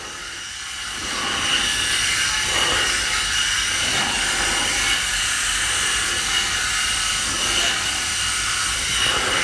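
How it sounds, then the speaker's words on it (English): A Philips Shaver Pro 7000 electric head shaver buzzes in a steady close hum as it passes over a scalp, with rhythmic dips and swells as the head sweeps across the skin, no talking. "that was a very fast shave"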